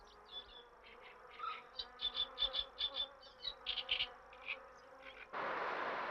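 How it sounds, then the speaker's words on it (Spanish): Mosquitoes over a wetland marsh make a faint, close buzzing whine in repeated short bursts that rise and fall. A sudden broad rush of noise cuts in near the end. "Lo único cierto es la proliferación de mosquitos en las aguas del humedal."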